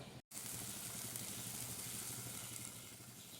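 Chopped onion frying in a pan, a steady, soft hiss of sizzling oil that runs on after a brief cut, close and with no one talking over it.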